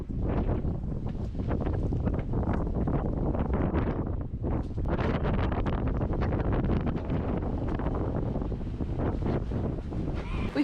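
Steady, loud wind buffets the microphone on a rainy coastal walk in Devon, a continuous roar with gusty swells throughout and no break.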